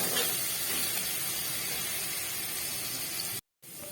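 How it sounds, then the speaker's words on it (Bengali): Onion paste fries in a pan for a cauliflower fish curry, with a close, steady, even sizzle that holds for over three seconds before a brief cut. "দিয়ে একটু পেঁয়াজ বাটাটাকে ভেজে নেব।"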